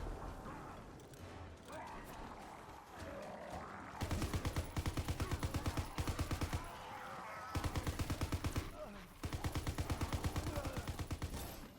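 Call of Duty automatic gunfire, loud rapid bursts of evenly spaced shots in several runs separated by short pauses, over game ambience.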